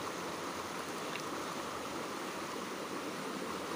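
Water flows steadily in the Aguacatal river at a fishing spot, a constant, fairly faint broadband rush with no breaks and no voices.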